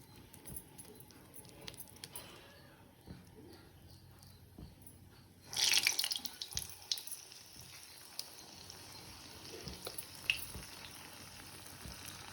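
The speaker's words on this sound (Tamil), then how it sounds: "இந்த எண்ணெயில் இப்போ வடையை சுட்டு எடுத்துக்கலாம்" Medu vada (urad dal fritters) frying in hot oil, a steady faint sizzle that swells loudly partway through as batter drops into the pan, then settles into bubbling crackle with occasional clinks.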